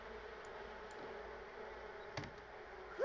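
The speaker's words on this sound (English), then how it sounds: "the bees are at it again" Bees buzzing in The Sims video game, a steady, fairly faint insect drone that holds evenly throughout, with no talking.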